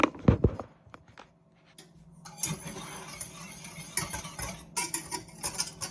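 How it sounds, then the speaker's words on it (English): Keto chocolate syrup stirred in a pot on a stove at medium-high heat, a spoon scraping and clinking against the metal in short bursts, close by, with no talking. "We're going to give this a stir"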